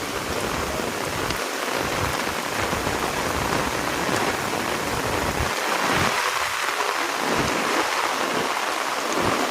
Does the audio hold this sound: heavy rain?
yes